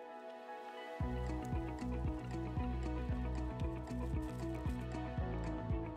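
Hot water poured from a small camping kettle into ramen noodles inside a motorhome: a steady gurgling stream with rhythmic glugging pulses starts after a brief quiet moment and continues evenly, close and fairly soft.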